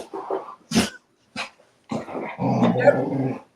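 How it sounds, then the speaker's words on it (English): A dog close by lets out a few sharp barks, then settles into a sustained throaty growl, with short pauses between outbursts. "What is that sound? Somebody got a dog"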